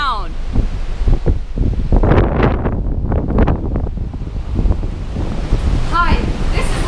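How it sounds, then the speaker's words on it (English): Typhoon Goni lashes Okinawa, Japan, with strong gusty wind buffeting the microphone over loud crashing sea waves, a continuous roaring rush that rises and falls in surges. "It's windy and the rain is coming down."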